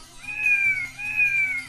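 A cat meows twice, loud and close, each meow a long drawn-out wavering call, with steady low background noise throughout.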